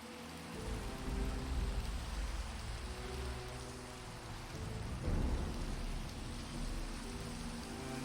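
Steady rain in the video game Minecraft, a dense even hiss with low rumbling underneath, continuous from start to end with no voices.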